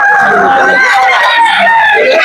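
A rooster crows loudly and close by in a market selling fighting birds, one long drawn-out call with wavering harmonic tones that fills the whole moment.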